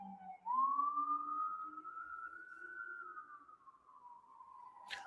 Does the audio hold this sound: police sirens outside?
yes